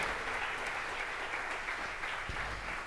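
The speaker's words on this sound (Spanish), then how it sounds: "Denle un aplauso fuerte al Señor" Steady applause from a church congregation, a continuous dense patter of clapping that holds evenly throughout with no voices.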